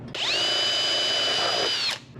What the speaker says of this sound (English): Now I'm going to pop a hole through this flange and into the other flange.